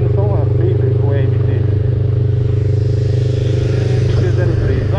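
A motorcycle engine drones loud and close in a steady, rumbling roar with slight revving, while someone talks over it.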